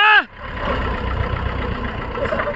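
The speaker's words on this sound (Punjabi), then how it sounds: "ਕਰਨ ਦਾ ਟਰੈਕਟਰ ਪਹਿਲਾਂ ਹੀ ਚੱਲਣ ਦਾ" A tractor engine runs at a steady idle, a continuous low mechanical rumble, close and moderately loud, following a brief rising vocal sound at the start.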